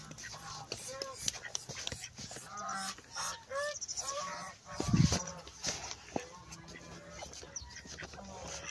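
Farm ducks quack and honk in short bursts while a person speaks quietly nearby, with a sharp thump partway through and scattered rustling close to the microphone.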